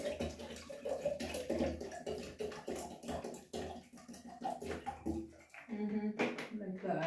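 Water pours steadily into a container being filled for a shower, a continuous splashing rush up close with brief pauses, while a person talks over it.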